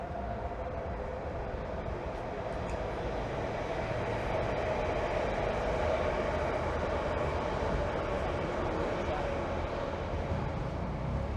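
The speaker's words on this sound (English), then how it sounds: "there's an overground train rolling by" A London Overground train rolls past on a busy street, heard as a steady, broad rumble and rail noise that goes on for the whole stretch, fairly loud and unbroken.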